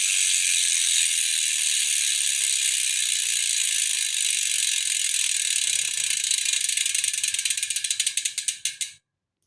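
A Superteam carbon road wheel spins freely, its ratcheting hub buzzing in a fast, steady, high clicking whir that slows into distinct separate clicks before stopping abruptly.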